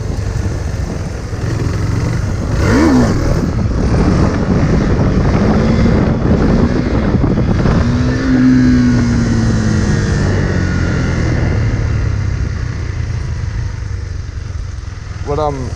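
A motorcycle engine revs as the clutch is let out while the rider gives it throttle on a lot. It is close and loud, with a rising engine pitch near 3 and 8 seconds under constant wind buffeting on the microphone.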